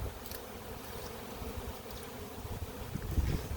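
A swarm of Italian honey bees being shaken into a hive gives a steady, low, diffuse buzzing hum throughout, with light wind noise and no talking.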